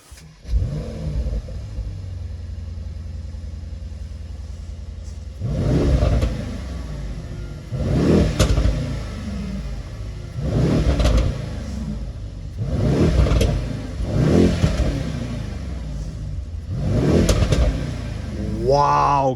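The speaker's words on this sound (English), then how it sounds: "change the driving mode to Sport Plus, so it automatically opens up the exhaust" A Mercedes-AMG E63 S in Sport Plus mode with the exhaust open revs repeatedly, six or so loud throaty bursts rising and falling over a steady idle burble, with a voice talking over it.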